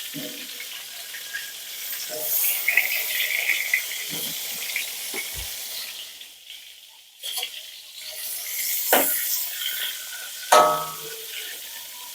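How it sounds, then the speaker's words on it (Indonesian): A second batch of food fries in a pan for a spicy sweet-and-sour dish, with a steady hiss of hot oil broken by occasional clinks and scrapes of stirring, close by and without talk. "Lanjut goreng yang kedua."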